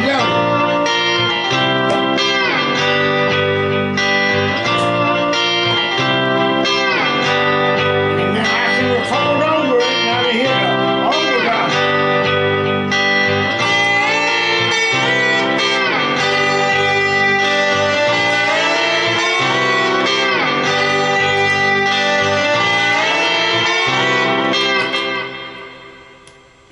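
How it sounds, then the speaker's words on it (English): A lap steel guitar loop played back through a Ditto looping pedal. Sustained, layered steel notes repeat steadily and loudly for nearly half a minute before cutting off abruptly at the end. "this is a ditto looping pedal. You can make a loop with it."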